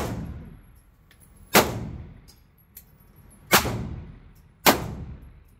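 Three sharp, loud gunshots ring out at irregular intervals as a gun fires test rounds of ammunition, each a hard crack with a short ringing tail, separated by quiet stretches.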